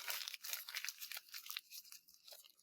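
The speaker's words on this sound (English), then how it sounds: "you would just kind of crumple everything in" Paper being crumpled by hand for a small paper mache form, close crisp crinkling and rustling in quick irregular bursts, fairly quiet with no talking.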